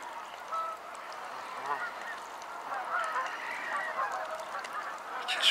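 Canada geese honk in a distant, overlapping chorus, a steady wash of calls at moderate volume.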